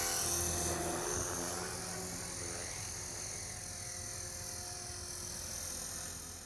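A steady high-pitched electric whine of a small model helicopter flying, continuous and fairly even in loudness over a low hum.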